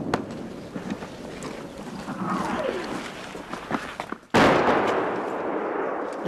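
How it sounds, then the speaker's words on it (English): Artillery shells from Russian fire land near a frontline village held by Ukrainian troops, a steady rumble of distant blasts and sharp cracks capped by a sudden loud, close impact that roars on afterward. "The shells start landing closer as the Russians adjust their aim."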